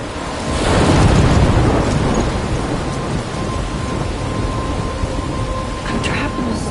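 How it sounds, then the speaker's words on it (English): A thunderstorm in the video game Life is Strange rolls in with a deep rumble of thunder swelling early, over steady heavy rain that continues loud throughout. "I'm trapped in a storm?"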